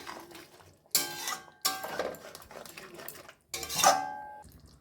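A utensil clinks and scrapes against a metal pot while stirring a potato, pointed gourd and egg curry finished with ghee and garam masala, three or four ringing knocks, each one fading, spaced apart and close by, with no voices.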